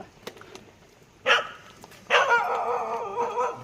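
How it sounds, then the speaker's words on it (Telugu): A village dog barks in two bursts outdoors beside a wood-fired cooking fire, a short sharp bark followed by a longer run of loud, close barking and yelping. "మా ఊర్లో కుక్కలు విపరీతం అయిపోయింది"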